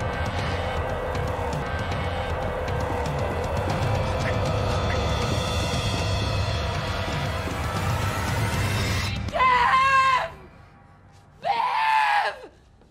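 A woman screams long and loud in an October Faction TV episode, the sustained cry dominating over a dense dramatic score, followed by two shorter, sharper scream bursts.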